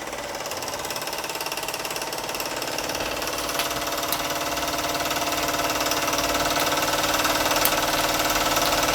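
A Mamod SP2 model steam engine runs steadily, giving a fast, even mechanical chatter and hiss that stays close and constant, growing slightly louder over nine seconds.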